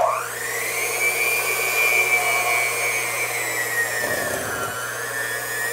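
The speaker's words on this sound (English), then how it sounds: "let's see this mixer in action once again" An electric kitchen mixer runs steadily in a bowl of ingredients on a home cooking show, a continuous whirring motor hum with a shifting pitch and a brief rougher patch near the end, fairly loud and close.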